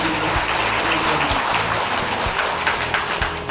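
Steady crowd applause fills an award ceremony hall, a dense, even patter of many hands clapping for the whole stretch without any talking over it.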